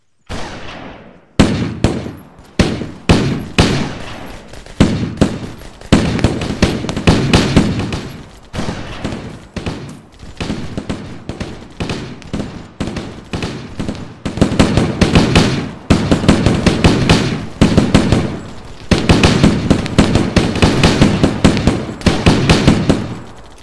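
Sustained automatic gunfire in the military shooter Arma 3 with a Halo mod, loud close bursts of rapid shots in repeated clusters, nearly continuous with brief pauses between volleys.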